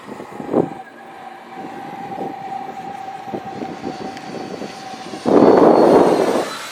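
A Freewing T-33 Shooting Star RC electric ducted-fan jet flies over an RC field, its steady whining hum rising into a louder, closer rushing roar near the end.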